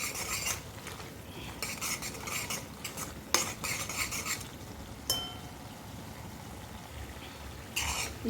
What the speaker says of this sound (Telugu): పసుపు, కారం, కొద్దిగా పసుపు, సరిపడినంత కారం, ఒకసారి మరలా కలుపుకుందామండి.